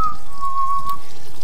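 A character in the murder-mystery video game The Ship whistles a single sustained, slightly wavering tone for about a second, fairly loud and close, over a soft hissing background resembling light rain, with no talking.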